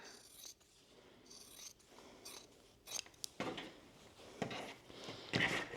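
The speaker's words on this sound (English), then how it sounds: "I'm going to take my scissors and trim that down." Scissors trimming the seams of a cross stitch Christmas stocking, a series of close, crisp snipping cuts that grow louder and more frequent toward the end, with soft fabric rustling between them and no talking.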